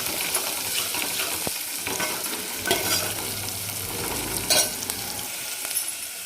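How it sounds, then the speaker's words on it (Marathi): Crushed garlic and ginger sautéed in hot oil in a pan, a steady loud sizzle and fry with occasional stirring scrapes, with no talking. "एक मिनिटभर परतून घ्यायचं मस्त सुगंध सुटला पाहिजे"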